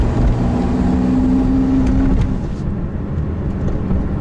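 A Ford GT engine burbles loudly and close by with a deep, steady rumble that eases off slightly toward the end.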